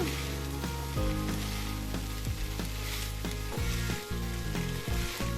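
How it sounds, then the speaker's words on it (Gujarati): Continuous sizzling of rice on a hot tawa griddle with repeated metallic scraping and tapping of two spoons stirring, steady rhythm, close and fairly loud. "તો 2 ચમચાની મદદથી આવી રીતે આપણે આને મિક્સ કરશું આને"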